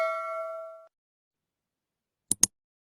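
A notification bell sound effect: a sustained bright chime tone that fades within a second, followed after a silent pause by two quick sharp metallic dings close together.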